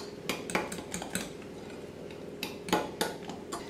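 A fork whisking flour batter in a bowl, a quick run of light clinking taps against the bowl's side in uneven bursts, close and fairly quiet with no talk.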